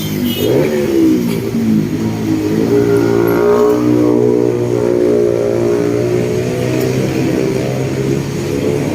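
A jeepney on a road in the Philippines revs its engine, a loud close mid-pitched drone climbing and settling through acceleration for about nine seconds, with no talk over it.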